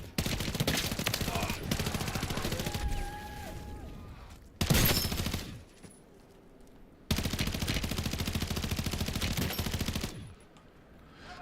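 SMG fire in Modern Warfare 3 Zombies, loud rapid bursts across most of the stretch, split by a short sharp blast and a quieter gap, with faint game chatter underneath.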